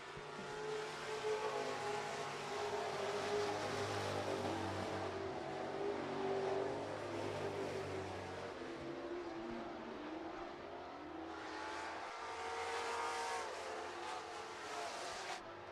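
Pure stock and super stock race cars at Miller Central Speedway, a pack of engines droning and roaring past, swelling and fading as they circle, heard from a distance.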